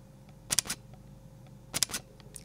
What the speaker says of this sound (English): now let's hear the first curtain electronical shutter, so one curtain mechanical shutter